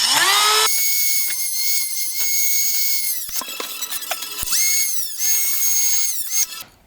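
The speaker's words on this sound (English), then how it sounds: "I like to take a Dremel with a grinding wheel and just cut them off." Dremel rotary tool with a grinding wheel cutting through fiberglass spars, shrill high-pitched whining bursts that rise, hold and drop as the wheel bites in, several cuts in a row, close and loud.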